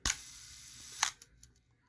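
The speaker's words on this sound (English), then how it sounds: "Now watch what happens when I cock the shutter and click it." An Asahi Pentax Spotmatic SLR camera is cocked and fired, giving a sharp near click, a second crisp snap of shutter and mirror about a second later, then a few small fading mechanical ticks.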